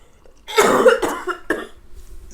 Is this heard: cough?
yes